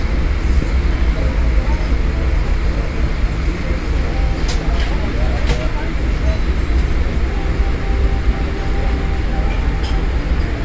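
The Rocky Mountaineer passenger train rumbles steadily along the Kicking Horse River in Canada, continuous low mechanical roar and rail noise, constant in loudness, with a few faint high clicks.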